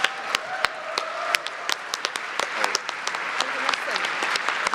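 Audience applause for award nominees at an annual conference, a sustained patter of many hands clapping with a few sharper claps. Faint voices sound underneath.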